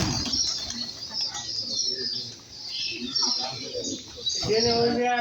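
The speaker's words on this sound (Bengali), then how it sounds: "এই যে কবুতর উড়াল দিয়ে ওর বাসায় চলে যাচ্ছে।" Pigeons flap their wings as they take off after feeding and fly back to their roost. Bursts of wingbeats come close and loud, with chirps and coos scattered among them, and someone talks over the flock.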